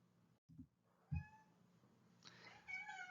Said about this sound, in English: my cat is making some noise in this video